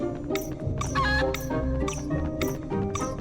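Clucking, chicken-like sound effects from the Harry Potter and the Philosopher's Stone PS1 video game, a quick series of short chirpy bursts over a busy game soundtrack.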